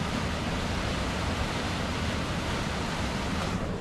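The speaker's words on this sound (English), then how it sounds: "I can hear the waterfalls now" A waterfall in the Yukon gives a steady, dense rushing roar that holds level throughout, with no voices over it.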